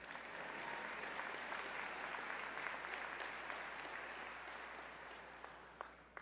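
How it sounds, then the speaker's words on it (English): A commencement ceremony audience breaks into continuous applause, a broad, even roar of many clapping hands heard from some distance in a large space, holding steady before easing slightly at the end. "Whoever started the applause on that end, we didn't put them up to it."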